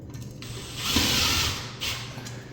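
A screw on a ceiling fan is tightened up close, a faint ratcheting, mechanical turning with a soft hiss swelling briefly then easing off.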